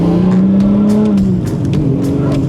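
A carbon-bodied BMW M4 tuned to 1000 horsepower roars loud and close, its engine note holding steady and then dropping slightly in pitch as it drives on an open road, continuous with no talk.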